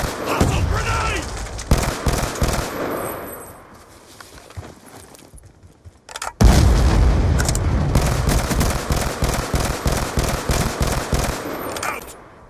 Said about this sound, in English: Grenade! Hostile grenade!